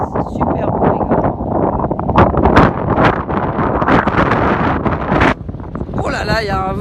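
Strong coastal wind near a lighthouse on Menorca buffets the microphone in loud, continuous rumbling gusts that drop away briefly near the end as a voice cuts in.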